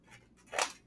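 The scissors of a Wenger multi-tool make a soft close snip, then one sharper, louder snip.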